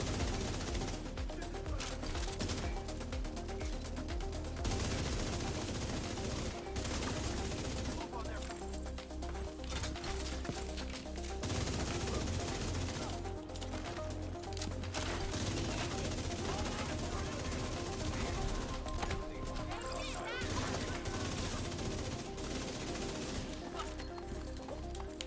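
Bursts of gunfire aimed at the player in The Division 2, continuous rattling rounds in rapid volleys over a long stretch mixed with game sounds, while a person talks over much of it.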